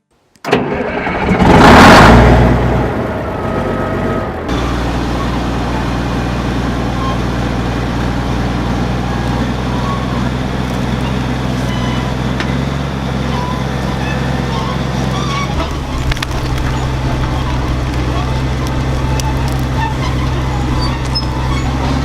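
A 1982 Komatsu D65E bulldozer that has not run for a while starts: a loud cranking burst catches, then the diesel settles into a steady, rumbling idle that holds for about twenty seconds, with its tone shifting slightly near the end.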